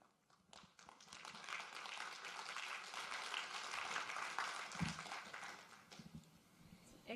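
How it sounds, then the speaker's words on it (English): An audience claps in a quiet, distant-sounding patter that swells gently and holds as a soft, steady ripple of hand claps. "Extra clap for finishing precisely on time."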